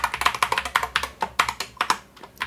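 Rapid, uneven clicking of keys on a computer keyboard as a password is typed, close and crisp with a brief pause near the end and no voices.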